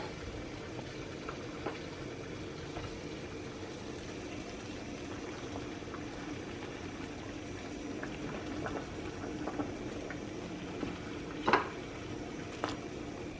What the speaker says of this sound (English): waiting for the water to boil for the pasta